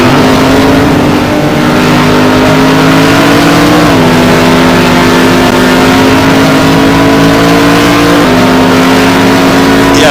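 Onboard engine note of a Maserati GT1 race car at Estoril in a racing video game, a loud steady high drone holding near constant pitch with small shifts as gears change, no voices over it.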